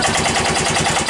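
Engine of a Yamaha G1 golf cart spinning over with compression in a rapid, even chugging rhythm, close and fairly loud, brief and without voices.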